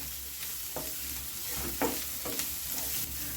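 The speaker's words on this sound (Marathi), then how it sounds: "मसाला आता हा चांगला परतून झालेला आहे." Ground masala of chilli, coriander, cumin and fennel fries in a pan with a steady sizzle, broken by several soft scraping stirs of a spoon, close and alone with no talking.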